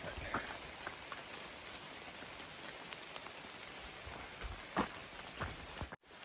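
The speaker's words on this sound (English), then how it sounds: "just drizzling. Picking up a little bit, not too bad." Light drizzle falling on a forest trail along the Appalachian Trail, a steady soft patter of raindrops on leaves and ground with occasional heavier drips, continuing evenly until a brief cut near the end.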